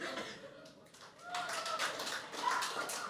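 Scattered applause from just a handful of people in a large stand-up comedy audience, a thin patter of separate claps rising over about three seconds against room murmur.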